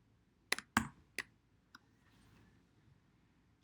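Alt and Backspace pressed on a computer keyboard, a few sharp close clicks in quick succession followed by one softer tap, then a quiet pause and another click at the end.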